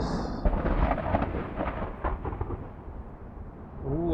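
Thunder rumbles from lightning in the indie horror game Visitor, a deep rolling boom that swells early and slowly fades, heard without speech.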